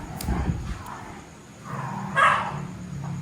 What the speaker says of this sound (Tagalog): yung mga aso ni Boss din, nagtatahulan na